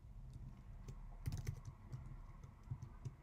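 Fingers type Python code on a computer keyboard, a quiet, close series of irregular key clicks with a few firmer taps, and no voices.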